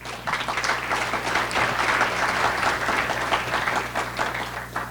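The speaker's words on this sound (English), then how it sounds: "So please let's give them a round of applause real quick." A conference audience at Water in the Desert 2026 breaks into steady applause, dense continuous clapping at moderate distance, sustained evenly for several seconds with no talk.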